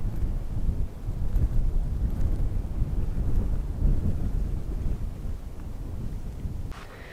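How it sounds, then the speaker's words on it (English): Steady wind buffets the microphone outdoors at a desert campsite in Las Cienegas, Arizona, a continuous low rumbling roar that holds for several seconds before easing slightly at the end. "It's a little windy still, but yeah, you can probably hear it a bit."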